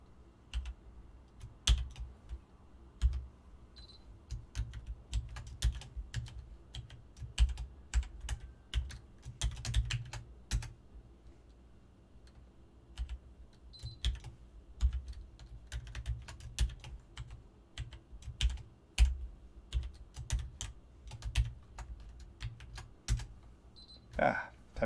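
Password being typed on a computer keyboard: rapid, irregular key clicks close up for the whole stretch, with faint talk in the background.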